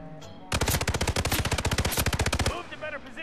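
Rapid automatic gunfire from the Hitman video game, set in Colorado, a loud sustained burst of evenly spaced shots lasting about two seconds, with quieter sounds before and after.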